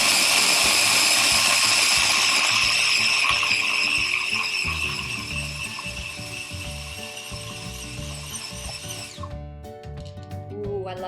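Food processor whirring loudly as it blends cashews with water and salt, a steady, dense grinding roar that runs for about nine seconds before cutting off into clattering and rattling.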